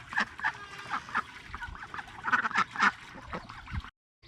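A crowd of farm ducks quacks in overlapping bursts, nearby and fairly loud, with several calls bunched together before the sound cuts off abruptly near the end.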